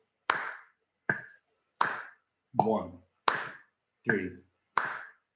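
Seven sharp hand claps land at an even, steady tempo, each one crisp and close, with a voice counting the beats aloud between some of them.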